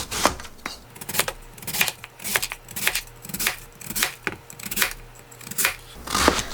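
A kitchen knife chops a radish into small cubes for mild children's kkakdugi kimchi, steady sharp taps on a cutting board repeating roughly twice a second, close and clear with no talking.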